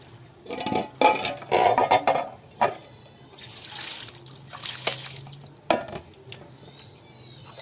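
Tamarind flower greens are washed in water in a pot, with splashing, trickling and sloshing bursts separated by quieter pauses, close and fairly clear.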